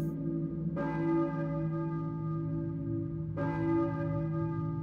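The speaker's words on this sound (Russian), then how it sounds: "Я слышу церковный колокол." A church bell in the video game Silent Hill on PlayStation tolls twice, each deep ringing strike followed by a long, humming decay, with no voices.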